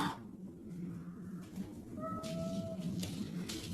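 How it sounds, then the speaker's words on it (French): A cat meows once over a steady background hum, a short rising-and-falling call in the middle, with no talking over it. "Ça c'est minou."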